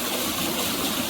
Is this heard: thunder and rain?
no